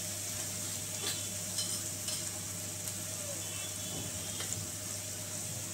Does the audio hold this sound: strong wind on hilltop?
no